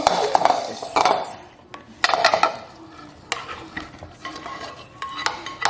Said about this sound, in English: we're gonna go over here and we're gonna mix the cheeses